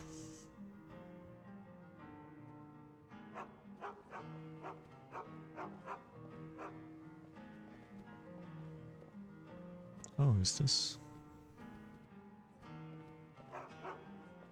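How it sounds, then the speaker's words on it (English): A dog in the video game Skyrim barks in a short burst partway through, loud against steady game music and background sounds, with someone speaking briefly before it. "Stupid dog."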